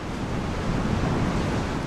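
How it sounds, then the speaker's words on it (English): Surf crashing continuously on the shore off French Creek between Qualicum Beach and Parksville, a steady broadband roar with wind buffeting the microphone, loud and close throughout. "windsurfers walking out into the crashing waves off French Creek"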